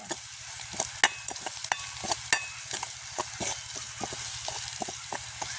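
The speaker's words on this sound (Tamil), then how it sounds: "நாங்கள் இதோட கொஞ்சம் கடுகும் சேர்ப்போம் நல்லோட கிண்டி விடுவோம்" Mustard seeds fry in a pan over a soft, steady sizzle while a utensil stirs them, giving sharp, irregular scraping clicks and taps against the pan, close and moderately quiet, with no speech.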